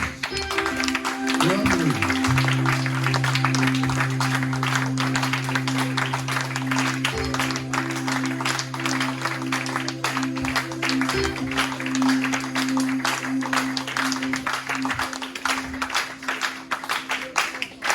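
A church congregation applauds and cheers at length, a steady wash of many clapping hands heard together with a sustained low musical tone and voices.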